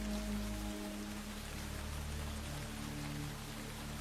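Heavy rain pours down steadily and loudly, a dense unbroken hiss close by, with a low hum fading out in the first second.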